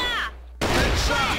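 Grenade explosion and gunfire in the video game CrossFire: a brief loud blast cuts in after a short hush and rolls on with dense firing noise, with a voice faintly present underneath.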